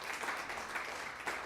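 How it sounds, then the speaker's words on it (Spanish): Church congregation applauding during a Spanish-language sermon, a steady wash of many hands clapping at moderate distance, fairly faint and continuous. "Dale ese aplauso fuerte a Jesús."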